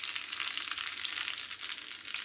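Apple egg rolls frying in oil in a pan: a steady, close hiss and crackle that stays even throughout the short clip, with no voices.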